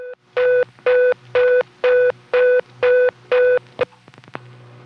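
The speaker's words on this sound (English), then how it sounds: "dialing a 3 from here silences the line" On a telephone test line, a repeated dialing tone pulses seven times in an even rhythm, loud and clean, followed by a brief click and a low steady line hum.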